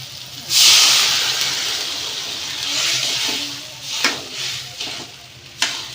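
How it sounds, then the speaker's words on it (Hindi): Water poured into a hot pan of frying pointed gourd and potatoes, a loud hissing sizzle bursting up at first, then a steady frying crackle with stirring clatters, no talk. "अब इसमें क्या करेंगे, पानी ऐड कर देंगे"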